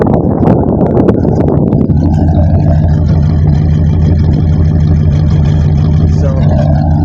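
A 1953 Ford Customline with a swapped-in 350 V8, a poorly tuned carburetor and an unwelded exhaust idles loud and close, starting with a brief clattery burst before settling into a steady, throbbing rumble.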